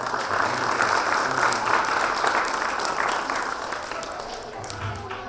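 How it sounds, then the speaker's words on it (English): An audience at a preschool annual day function applauds for an honoured doctor, a sustained dense wash of clapping that holds steady for several seconds and eases slightly near the end. "Big applause for sir."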